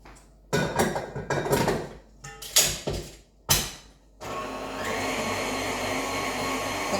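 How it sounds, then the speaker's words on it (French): A small food processor runs on eggs for a gluten-free chorizo and comté cake. Several sharp clatters and knocks come first, then the motor settles into a steady, close whirring hum. "on va prendre mon petit robot, il va travailler un petit peu aussi"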